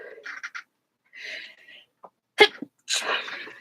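A loud, close sneeze with a sharp intake of breath beforehand, followed by a breathy exhale, amid short bits of voice.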